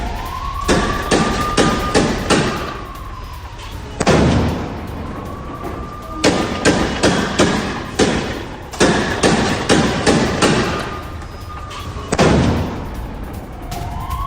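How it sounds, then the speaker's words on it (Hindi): Bursts of gunfire from Hamas supporters in Gaza, loud sharp cracks in rapid clusters repeating across the scene, with a siren-like rising and falling tone underneath. "इजरायली फोर्स पर फायरिंग। हमास समर्थकों ने कैसे फायरिंग की"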